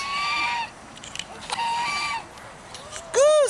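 A goose honks close by in several loud, drawn-out calls with short gaps between them, ending in a sharper, stronger honk.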